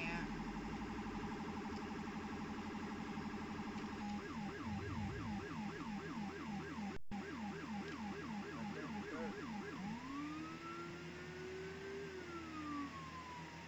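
Wailing ambulance siren in a video game, a fast warbling yelp switching to a rising and falling wail, loud and continuous over low engine rumble, with a brief cut partway through.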